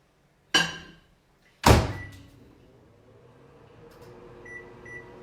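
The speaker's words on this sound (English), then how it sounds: "we're going to throw these in the microwave" A microwave oven cooking a keto lemon mug cake, heard as two loud thunks of the door and buttons, then a low steady hum with faint beeps near the end.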